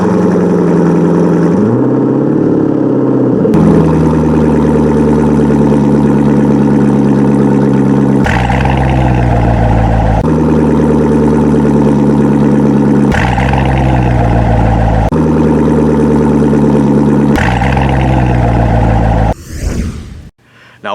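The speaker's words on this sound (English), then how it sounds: "Let's hear a Stingray with the Corsa Sport exhaust." A Corvette Stingray's loud V8 with Corsa sport exhaust idles with a deep, burbling note, blipped several times into sharp revs that fall back to a steady rumble.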